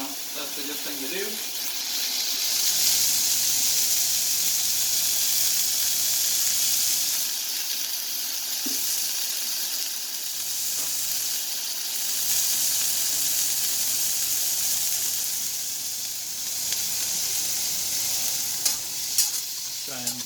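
Chicken fried rice is stirred and fried in a hot wok, with a loud, continuous hissing sizzle that swells and eases as the food is moved around.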